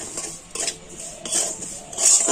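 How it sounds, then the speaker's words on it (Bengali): Semolina is lightly fried in ghee in a wok, with a spoon scraping and clinking against the metal in short repeated strokes over a gentle sizzle, close up. "আর এখন আমি ঘিয়ের সাথে সুজিটা কিন্তু একটু হালকা করে ভেজে নেবো"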